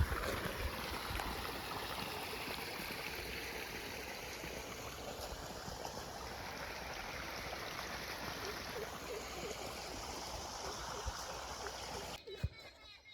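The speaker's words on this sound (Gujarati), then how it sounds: "અહીં પાણી આવી રહ્યું છે જો" Water running steadily through a mango orchard, a continuous broadband rush with light splashing and trickling throughout, moderately close, ending with a brief bump.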